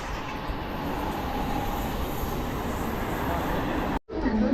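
A train at Bandra Terminus railway station in Mumbai, a loud steady rumble of rolling carriages close by that cuts off abruptly near the end, followed by a brief lower hum.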